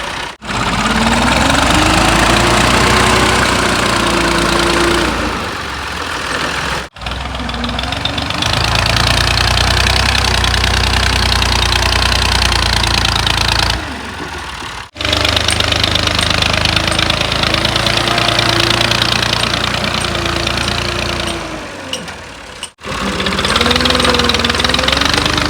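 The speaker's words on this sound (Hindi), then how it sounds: "अभी ऊपर ट्रैक्टर चल रहा है ना, मिट्टी है नरम" A tractor engine runs steadily while spreading soft soil over a home courtyard, a loud continuous diesel drone with a knocking throb and shifting pitch, broken by three brief cuts.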